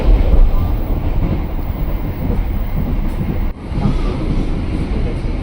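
Inside a moving passenger train, a continuous low rumble and rattle of the carriage with a steady broadband roar, a brief dip midway, no clear talk.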